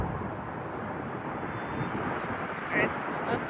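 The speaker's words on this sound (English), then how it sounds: "So landing plane and then taking off." A fixed-wing airliner takes off from an airport runway, its engine roar a broad steady rumble in the distance, buffeted by wind noise on the microphone.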